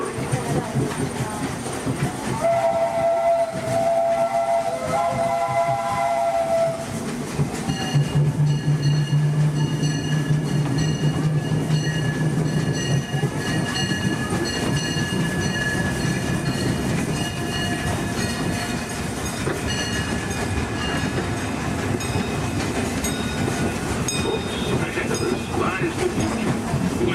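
The Disneyland steam train rolls along its rails with a steady clatter and rumble, wheels squealing and ringing at times, while a recorded narration plays over the ride.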